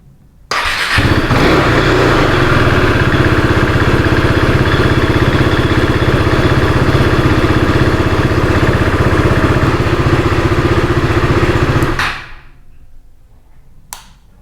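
A KTM RC390 motorcycle engine runs at a steady, loud idle for about eleven seconds after an oil refill, then cuts off. Quiet follows, with one small knock.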